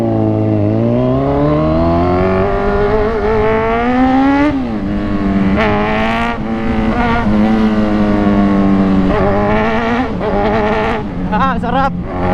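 A motorcycle rides through traffic on EDSA with a loud engine that rises and falls through its revs. Wind rushes over the bike, and nearby vehicles pass.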